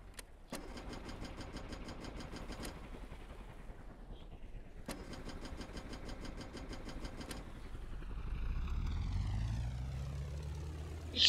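Aircraft engine in the Stormworks video game cranking with two rapid starter rattles, then catching and running, its steady hum rising as the propeller spins up, heard up close with no talking.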